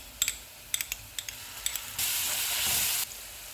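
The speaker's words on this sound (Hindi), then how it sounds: "लहसुन और अदरक का पेस्ट डालेंगे।" Garlic and ginger paste hits hot oil with onions, giving a brief run of stirring clatters followed by a sudden, steady sizzle that lasts about a second before easing off.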